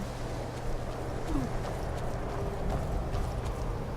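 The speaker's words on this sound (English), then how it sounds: "Janessa, we got a problem with your horse." Steady clip-clop of horse hooves trotting in Skyrim, with a low mechanical hum and faint background noise, no voices.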